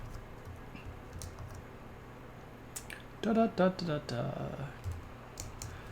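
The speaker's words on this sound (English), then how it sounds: "that's not where I'm supposed to be typing shout-outs" Computer keyboard keys are tapped in a short run of quick clicks, close and fairly faint, with someone speaking over part of it.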